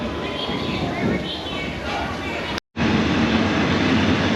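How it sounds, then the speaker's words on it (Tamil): A train departing a station on the Bangkok to Ayutthaya line rumbles steadily along the rails with a broad, close roar, cut by a brief moment of silence partway through. "நம்ம வந்து ட்ரெயின் கிளம்பிருச்சு"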